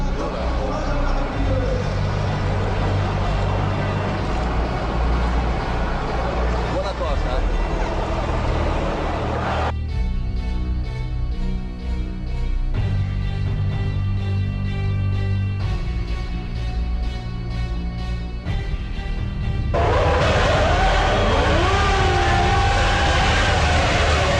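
Formula 1 cars launch off the grid at a 1994 Grand Prix start, a dense, continuous engine roar with layered harmonic whines rising and shifting throughout, while a commentator talks over it.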